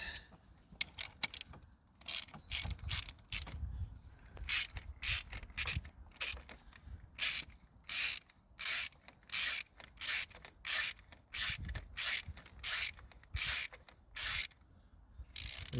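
A ratchet socket clicks in repeated quick bursts as a glow plug is screwed into a Seat Alhambra engine, close and fairly quiet, with short pauses between each run of clicks.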